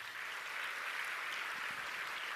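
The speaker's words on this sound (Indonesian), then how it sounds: "Tepuk tangan untuk mereka ya." A crowd applauds during a speech by the Minister of Religion, a continuous, even wash of clapping that sounds distant and fairly faint, with no pause across the clip.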